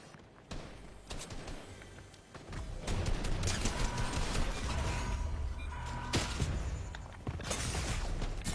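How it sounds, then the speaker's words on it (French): Enemy gunfire aimed at the player in a video game, a dense, steady barrage of distant shots with scattered sharper cracks, rising after a quieter start and holding throughout. "Ça me tirait encore dessus, j'ai pas pris le risque de rester, me prendre une balle perdue."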